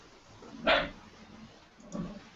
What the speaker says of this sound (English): My dog just had a nightmare and woke up. Started barking at a wall.